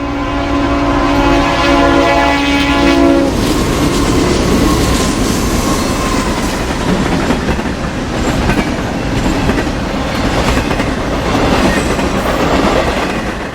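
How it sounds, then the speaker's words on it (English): A Norfolk Southern intermodal freight train sounds a loud multi-tone horn near a road crossing in Springfield, Ohio, then roars past close by with a steady rumble and rhythmic clatter of wheels over rail joints. "NS Train 200 approaches from the South Charleston Pike Crossing at milepost 178"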